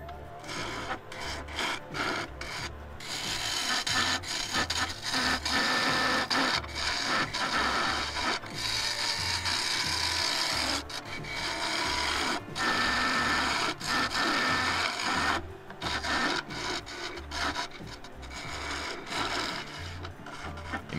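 Gouge cuts hollowing a claret ash bowl on a lathe, the wood carrying woodworm holes and a knot, with a tool due for sharpening: a steady, loud rasping scrape that swells and breaks into repeated passes, with low rhythmic thumping from the lathe rocking underneath.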